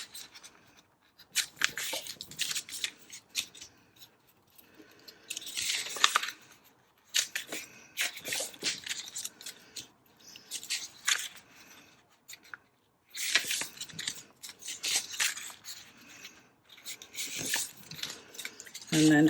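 Sheets of 12x12 paper being folded in half for handmade Christmas gifts, producing close, crisp rustling and crinkling bursts that come in irregular clusters with short quiet gaps.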